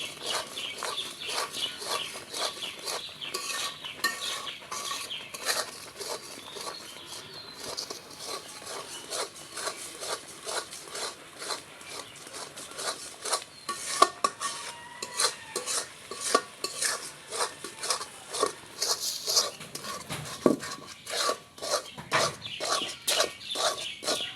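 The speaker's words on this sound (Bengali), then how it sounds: "সুজি দিয়ে অনবরত নাড়তে হবে যতক্ষণ পর্যন্ত খামিরের মতো না হয়।" Coconut and semolina mixture for narkel mithai is stirred steadily in a pan, with dense, continuous scraping and clacking strokes at close range. Faint animal sounds turn up in the background, and no one speaks.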